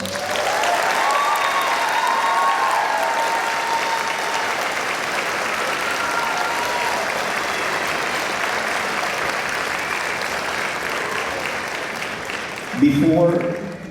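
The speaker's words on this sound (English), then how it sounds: "So please, let's give them a round of applause" Concert audience applauding junior high All-Region Band students, sustained, even clapping filling the hall, with a voice briefly audible near the end.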